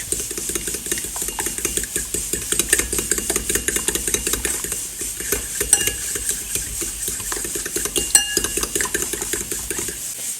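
A mixture seasoned with onion powder and salt is whisked in a bowl, giving a steady, rhythmic scraping and clicking that runs throughout at moderate volume with no one talking.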